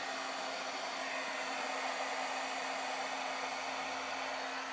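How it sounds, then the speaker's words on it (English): A heat gun blows steadily to heat-set embossing powder on vellum for a craft project, an even, close, unbroken whooshing hum with no talk. "Now I'm going to use my heat gun and heat set the embossing powder"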